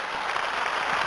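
An audience claps together in a dense, even burst of applause, loud and continuous with no voices over it.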